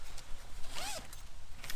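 A zipper on a fabric overhead storage pouch for a 2022 Can-Am Maverick is pulled open in one quick, close rasping sweep lasting under a second, with no talking.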